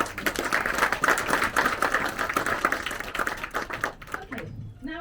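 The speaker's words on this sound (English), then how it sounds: "I think that deserves another round of applause." Applause at a hospital fundraising event, a room of people clapping in a busy patter that fades out, then a voice begins speaking.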